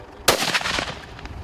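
A single sharp rifle shot fired on an African safari hunt cracks out loudly, followed by a rolling echo that fades across the open bush.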